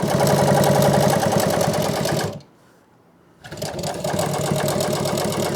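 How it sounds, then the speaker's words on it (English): Sewing machine stitching a boat cushion, a loud, fast rhythmic chatter that runs for about two seconds, stops briefly, then resumes at the same steady pace. "Now I'll finish that stitch."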